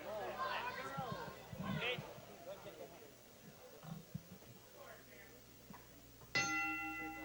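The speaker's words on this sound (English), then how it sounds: "There's the bell, and the two fighters touch gloves for the 9th and final round" At a Rick Roufus vs Rich Lopez fight, the bell rings once, bright and ringing, to open the ninth and final round. It comes near the end after a stretch of commentary and crowd chatter.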